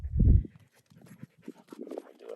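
Dogs romping outdoors in the Utah desert as a cool weather front moves in, one loud close burst of breathy panting and snuffling, then softer scattered movement and panting sounds.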